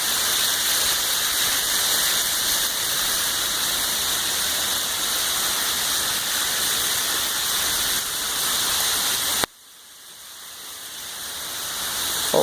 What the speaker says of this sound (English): I don't know if you can hear the water going through the chains